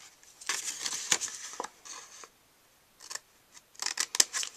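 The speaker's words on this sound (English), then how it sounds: "you might call that mitering, cutting on a diagonal" Scissors snip through papercraft paper on a diagonal miter cut, a few quick crisp cuts in two close bursts separated by a brief quiet pause.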